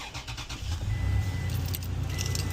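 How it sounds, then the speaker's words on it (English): Keys jangle close by as a truck's engine turns over and settles into a running idle outdoors on a wet day, a low steady rumble filling the rest of the moment. "Let's get this truck warmed up and go to the lake."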